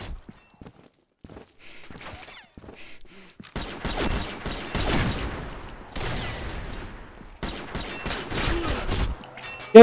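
An SR25 semi-automatic rifle fires rapidly in the video game Combat Arms, a few quiet shots first and then dense bursts of loud, close shots separated by brief pauses.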